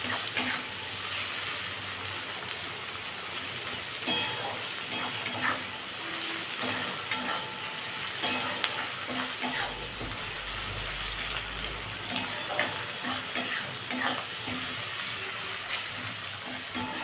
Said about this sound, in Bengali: পেস্টটা ভালো করে কষে নিতে হবে।